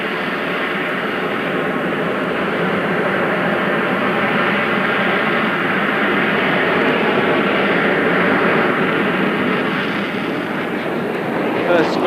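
An RAF Harrier GR7 jet hovers at an air show, its engines giving a loud, unbroken roaring whine that holds steady throughout.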